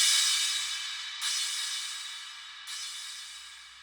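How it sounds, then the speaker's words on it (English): A bright 909 crash cymbal sample rings out with a big delay effect, its washy hiss repeating in loud echoes that fade slowly between hits, with no voices. "Big crash there."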